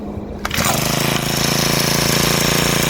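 An Ozeam 1.3 hp outboard motor on a kayak fires up after a short pull, then settles straight into a loud, steady, rapid buzzing idle that runs without a break to the end.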